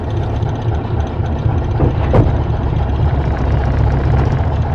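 A wheel loader's engine runs steadily with a low, droning rumble while its bucket is raised, holding a constant heavy tone with a brief swell midway and no voices.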